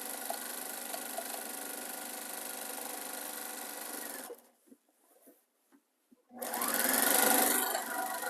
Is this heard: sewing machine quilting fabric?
yes